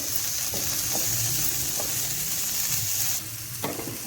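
Shredded cabbage frying in a pan of hot oil for a mixed vegetable soup, a steady broadband sizzle with a few soft stirring clicks, close and continuous, dropping slightly quieter near the end.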